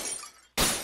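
A bullet strikes glass in the video game Raised in Oblivion, a sudden loud shattering crash after a quieter moment, bright and close.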